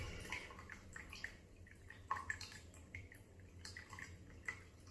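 Faint water trickling and dripping from a drained household radiator, soft irregular drops and splashes against a quiet room background, no voices.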